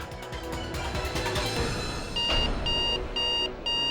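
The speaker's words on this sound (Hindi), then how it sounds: "बीप की आवाज कहां से?" An electronic beeping device, feared to be a bomb, gives off a repeated, steady pattern of high, sharp beeps, loud and close, over a dense music-like background.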